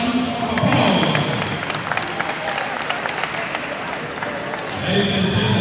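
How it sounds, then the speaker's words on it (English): An audience at an opening ceremony breaks into loud, sustained applause, a dense wash of clapping that swells again near the end, with voices mixed in. "Let's give him a huge round of applause."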